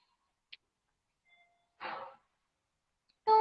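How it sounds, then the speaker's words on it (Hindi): A home doorbell gives a faint short chime amid near silence, followed by a brief breathy rustle, then a louder chime that starts right at the end and is cut off. "ये मेरी घर की डोरबेल है"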